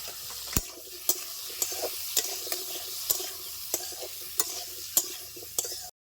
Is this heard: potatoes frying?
yes